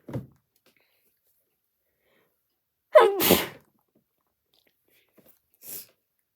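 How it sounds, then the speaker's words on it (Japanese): A single person sneezes sharply at close range, with a brief throaty intake beforehand and a faint trailing sound afterward, all set against near silence. "今回はね、くしゃみ動画をするのよ。"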